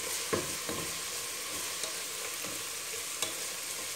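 Chilies going into onions frying in a pan give a steady close sizzle with a few soft clinks and stirring scrapes, no talking.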